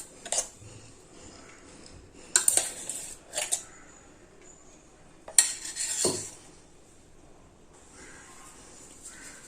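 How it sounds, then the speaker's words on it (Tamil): Grated coconut stirred and scraped around a new clay pot over a low flame, giving a few sharp scrapes and knocks spaced between quiet stretches, fairly close and moderately loud. "சட்டியில் எல்லா பக்கமும் படுற மாதிரி இப்போ வதக்கணும்"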